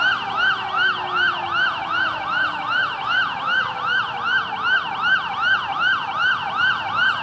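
Fire truck siren at a large fire on Visayas Avenue, Quezon City, a loud, rapid repeating yelp cycling steadily and evenly throughout, with a vehicle passing underneath.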